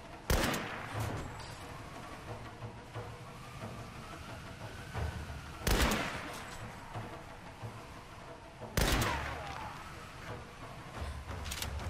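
Gunfire in the Tomb Raider video game on Xbox 360: three loud, sharp shots spaced a few seconds apart, each with a ringing tail, over a steady ambient game background.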